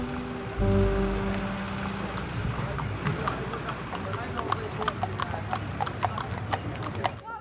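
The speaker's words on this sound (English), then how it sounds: "In Cumbria, Martin Tom and his friends have arrived at Applebee Horse Fair" Horses at Appleby horse fair in Cumbria clip-clop in a steady run of hoofbeats on a hard surface, growing busier and sharper, with a person talking over the sound and crowd noise behind.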